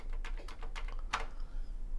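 Commodore 64 arrow keys being pressed: a run of quick, light plastic key clicks in uneven rhythm, close up and fairly quiet over a low background hum.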